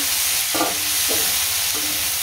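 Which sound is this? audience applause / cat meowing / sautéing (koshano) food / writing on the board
sautéing (koshano) food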